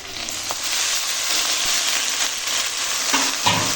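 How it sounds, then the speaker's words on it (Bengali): Chopped greens go into a pan of frying onion, green chilli and garlic, giving a steady close sizzle with a few stirring scrapes and clinks near the end, and no one talking. "এখন পেঁয়াজ লঙ্কা আর রসুনের ফোড়নটা ভাজা হয়ে গেছে এখন দিয়ে দেব কেটে রাখা শাক"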